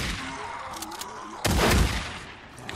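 Gunfire in the game Days Gone, a burst of sharp shots with a heavy booming blast in the middle, close and loud over low background rumble.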